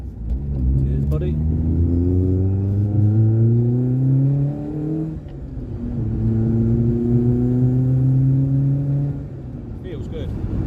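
A Mk2 Golf GTI 16v engine pulls hard through two rising gear sweeps at three-quarter throttle, pitch climbing steadily, then a shift and a second climb, heard from inside the car.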